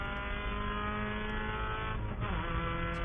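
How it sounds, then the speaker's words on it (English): A race car locks its brakes with a tire squeal going into turn 13 during a FARA Memorial 300 endurance race, under a loud, steady engine roar. "Ooh, a little brake lock up there into turn number 13"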